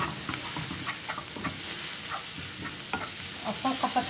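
Onion and cinnamon fry in a pan, a steady close sizzle broken by frequent scraping stirs, no voices.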